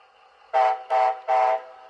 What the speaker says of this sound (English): All that is the railroad standard 2 horn blast to go forward, 3 to go back.